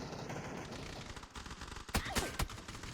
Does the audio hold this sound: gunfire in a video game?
yes